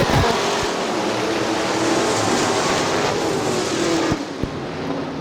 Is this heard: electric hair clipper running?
no